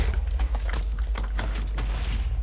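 Cannons fire in the Minecraft video game in a rapid string of sharp booms and cracks, dense and loud, with mechanical clatter between shots and no talk.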